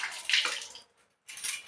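Hands rinsed under running tap water, a close splashing hiss that runs, cuts out briefly for a moment, then resumes.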